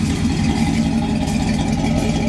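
A 1966 Chevy engine runs just after a choke-assisted start, with a steady, fairly loud mid-pitched idle and a slight uneven pulse. No one speaks.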